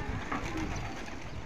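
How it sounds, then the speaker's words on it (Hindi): Pigeons coo softly nearby in a short burst of low, throaty calls over a busy background of rustling and bird movement. "शाम का टाइम भी नहीं हुआ चंदू, अभी मत कर बंद, अभी टहलने दे कबूतरों को"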